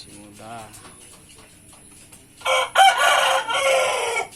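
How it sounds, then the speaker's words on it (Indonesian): A young rooster crows loudly near the end in a backyard coop area after a flood, following a stretch of quieter background talk and a brief earlier vocal sound. "dengarkan kokokannya itu, memang ayam ini masih muda ya"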